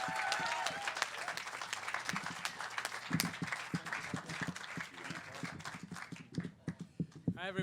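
An audience gives a round of applause to welcome a speaker to the stage at Disclosure Fest 2019, with scattered clapping under a voice at the start that thins into a few louder, separate claps.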